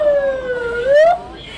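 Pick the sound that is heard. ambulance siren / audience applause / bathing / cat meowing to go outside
ambulance siren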